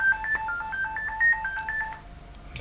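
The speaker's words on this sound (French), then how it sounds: "Je vais décrocher mon M155 Messenger en appuyant sur la touche du dessus" A rapid series of electronic key tones beeps in quick succession from an M155 Messenger phone as its answer key is pressed, fairly quiet, followed by a brief click at the end.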